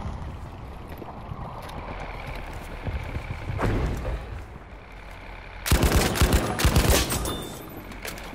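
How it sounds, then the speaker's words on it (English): Game gunfire crackles in a tank battle, scattered distant shots over a windy rumble, then a sudden loud, close burst of rapid fire that rattles for about a second and a half before fading back. "He just shot the guy"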